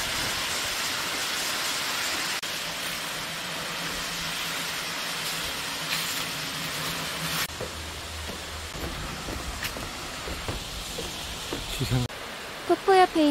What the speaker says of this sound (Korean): 자, 같이 수옥폭포 구경을 하시죠.